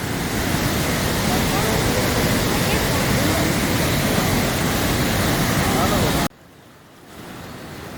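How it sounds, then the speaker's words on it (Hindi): Devi Falls waterfall in Pokhara, Nepal roars as a loud, dense, continuous rush of water, then cuts abruptly to a much quieter hiss near the end. "ये देवी फॉल वाटरफॉल है जिसका ये दूसरे एंगल से खींचा हुआ है।"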